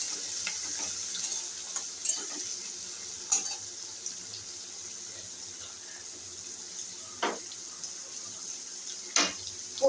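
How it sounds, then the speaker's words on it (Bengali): Shrimp frying in hot oil for a Bengali doi chingri dish make a soft, steady sizzling hiss, broken by a few brief clinks and stirring sounds. "এবার আমি চিংড়ি মাছগুলো তেলের মধ্যে ছেড়ে দিলাম, বেশি ভাজবো না"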